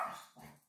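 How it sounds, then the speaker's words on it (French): Dogs barking at home, a short burst of two excited, fairly close barks with no one talking. "j'ai mes chiens qui s'énervent"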